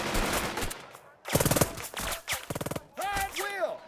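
Rapid bursts of machine-gun and rifle fire in the WWII tactics game Burden of Command, several loud staccato volleys separated by short pauses, with a voice shouting between them.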